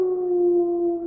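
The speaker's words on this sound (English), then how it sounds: "A dog!" A dog howls in a long, steady, sustained tone that holds evenly for about a second, loud and close with nothing else around it.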